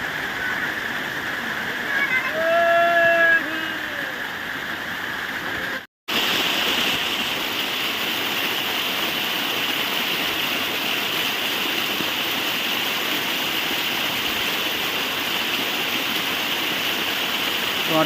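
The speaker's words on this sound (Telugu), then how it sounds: "వాటర్ ఫ్లో చాలా బ్యూటిఫుల్గా ఉంది." Water tumbling down a hillside over rocks near a village, a steady broadband rush throughout, loud and close, with a brief dropout partway through; faint whistling tones over the flow early on.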